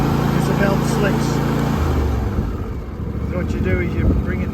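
A ride-on mower engine runs loudly and steadily at first, then its revs drop and the note changes, with someone talking over the engine throughout.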